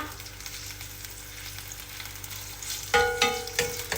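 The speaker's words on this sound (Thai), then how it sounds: "รวนหมูให้เขาเกรียมก่อนนะ" Pork sizzling as it is stir-fried in a pan for a Korean-Thai style instant noodle soup, a steady close fry with sharper scraping stir strokes toward the end; no talking.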